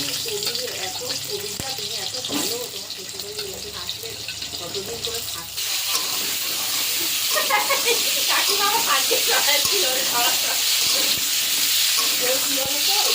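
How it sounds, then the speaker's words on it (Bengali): Potatoes frying in oil left from frying pointed gourd, a bubbling sizzle that grows louder halfway through, with a voice talking over it. "পটল ভাজা তেলে আলুগুলো ভেজে নেব"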